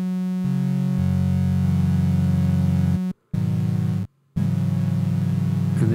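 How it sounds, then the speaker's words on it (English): A bright, buzzy synthesized sawtooth tone, a looped sample on an AKAI S5000 sampler, holds steady, shifting pitch a couple of times with brief silent gaps between notes. "that sounds actually like a very nice sawtooth wave."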